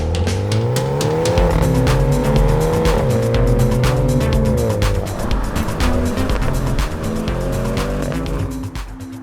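A BMW M135 accelerates hard, its engine note climbing and dropping through quick dual-clutch gear shifts. The loud, close drone continues throughout, with tire and road noise underneath.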